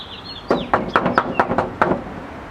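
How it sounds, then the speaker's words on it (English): Knocking on a gate: six or seven loud, hollow raps in an uneven series, close and resonant, with a faint bird-like chirp at the start. "Here's a knocking indeed"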